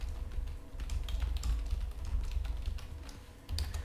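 Rapid clicking taps on a computer keyboard while typing in Minecraft chat, irregular key presses close up and fairly quiet over a low background hum.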